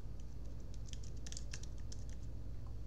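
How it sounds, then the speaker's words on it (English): Soft, quick keystrokes on a computer keyboard pattering in short irregular bursts over a steady low hum, with no voices. "Then you can type in the name, enter CoinLedger."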